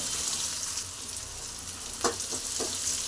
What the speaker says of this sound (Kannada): ಮತ್ತು ಕಟ್ ಮಾಡಿರುವಂಥ ಮೆಣಸಿನ್ಕಾಯಿ ಹಾಕಿ ಫ್ರೈ ಮಾಡ್ಕೊತೀನಿ.